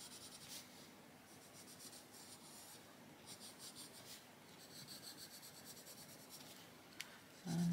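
Colored pencil shading in grass green on paper for an adult colouring page of crocuses, a steady soft scratchy rubbing that continues with slight rhythmic pulses throughout, close and quiet with no talking.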